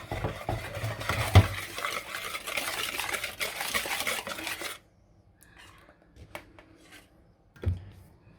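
Oat biscuit batter is whisked in a bowl with a rapid, scraping, rhythmic clatter for about five seconds, then stops, leaving near silence broken by a few faint knocks.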